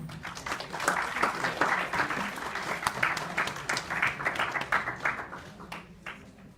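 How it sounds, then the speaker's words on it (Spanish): An audience at a university economics faculty event, a presentation of the UNCTAD trade and development report, breaks into sustained applause to welcome a speaker, with dense, even clapping filling the room throughout. "Con un fuerte aplauso damos paso a esta ponencia."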